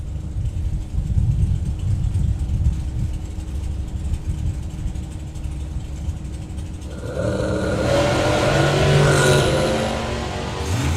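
The Nightmare Dragster, a drag racing car at a summer nationals meet, rumbles deep and steady at first, then its engine swells into a louder, rising roar that builds toward the end.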